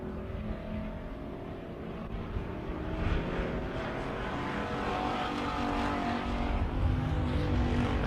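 Race cars running at a short oval speedway, a continuous dense engine roar from several cars at once, loud and steady with slight swells as they pass, no voices.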